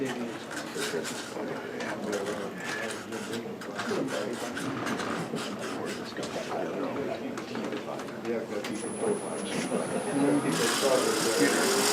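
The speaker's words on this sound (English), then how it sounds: "Now I'm going to finish sanding this, the globe" Repeated rasping strokes of sanding a globe Christmas ornament, quick and close, scratching over a hard surface with someone talking underneath.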